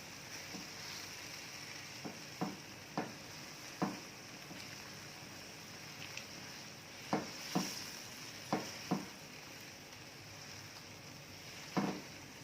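Thick bean paste filling being stirred in a pan on the stove, with a soft continuous sizzle and about a dozen spaced, distinct scraping strokes of the utensil, heard close with no one talking.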